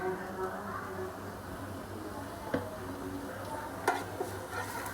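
Vegetable filling stirred in a bowl with turmeric for veg parcels: steady, close scraping and stirring with a few sharp clinks scattered throughout.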